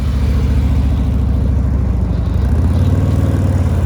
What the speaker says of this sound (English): You heard him bring the RPMs up.